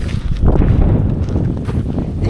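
Gusty wind roars steadily across the microphone outdoors while walking, a broad low rumble that stays loud for the whole stretch with faint footfalls beneath.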